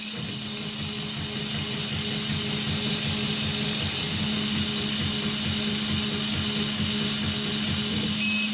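A 70-watt CO2 laser engraver running at 100 mm/s while black-marking stainless steel gives a steady, unbroken mechanical hum with a high whine and a faint rhythmic chatter. It stays at an even level throughout, close by, with no talking.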